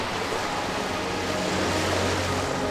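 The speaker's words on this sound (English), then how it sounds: "Amidst the roiling waves of the Lotana Sea" Ocean surf from the Final Fantasy XIV opening off a windswept isle on the Lominsa Sea region, a steady broadband wash of rolling waves with a low rumbling undertone, continuous and fairly loud throughout.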